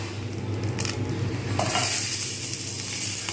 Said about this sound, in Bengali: যেহেতু ফ্রাইং প্যানটা গরম রয়েছে এইবারে আমি এই যে এইরকম করে যে কেটে রেখেছিলাম পেঁয়াজিগুলো এইগুলো দেব